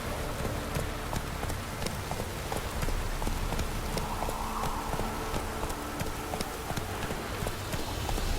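The horse Roach gallops in The Witcher 3 on PS4, a rapid, steady clip-clop of hooves running throughout, close and even-paced over a rain-like ambient hiss.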